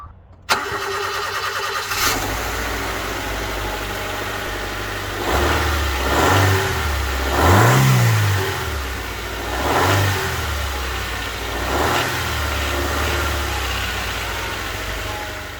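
A Honda Civic EK engine with stock air intake fires up, settles into an idle, then revs up and down several times in smooth swells, close and loud.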